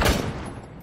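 Gunfire in the tactical shooter game Rainbow Six Siege: a loud, close burst of shots opens and then decays into a rumbling tail, with no talk over it.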